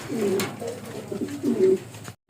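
Large Bengal pigeons coo close by in two soft, throaty bursts separated by a brief pause, with no talking.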